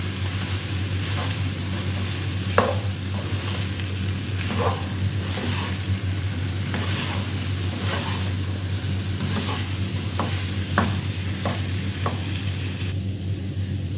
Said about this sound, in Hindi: और हम इस मसालों के साथ इसको अच्छी तरह से मिक्स कर लेंगे।